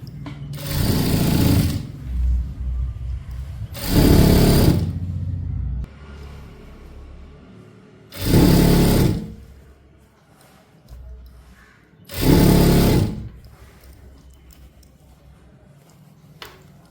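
A sewing machine stitches a churidar pant in four loud, close bursts of a few seconds each, separated by quieter pauses while the fabric is repositioned.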